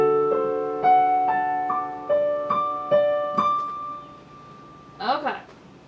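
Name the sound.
piano playing a measure of a piece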